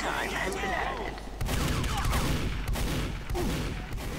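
Gunfire in a video game match, including a sniper rifle: sharp cracks and bursts of shots over a busy battle din, with a louder barrage starting partway through and a few distinct sharp reports later.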